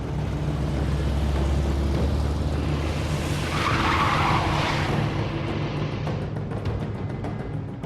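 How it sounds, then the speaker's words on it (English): A car in The Wolf Among Us skids loudly with a screeching tire squeal that swells mid-way over a steady engine roar, then fades out. "Oh wait, that was the Crooked Man's car."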